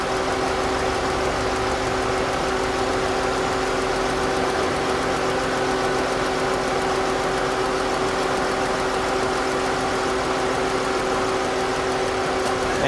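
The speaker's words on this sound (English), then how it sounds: "Engine running really rough. Barely have over 10 PSI." A car engine idles roughly while losing fuel pressure, a continuous loud, close drone with a steady hum and uneven vibration, no talking over it.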